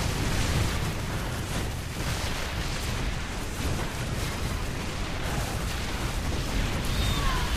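Dense, continuous rumble of overlapping explosions as StarCraft II infestors are destroyed in a battle, a loud wash of bursts and booms with no distinct gaps.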